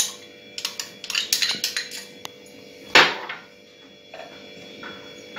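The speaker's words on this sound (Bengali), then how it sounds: "তার মধ্যে এই 1/2 কাপ জল রয়েছে, আমি কর্নফ্লাওয়ারটাকে আগে গুলে দিচ্ছি" A spoon stirring cornflour into half a cup of water for a sauce, a quick run of light clinks and taps against a bowl, then one louder knock and a few softer taps, close by.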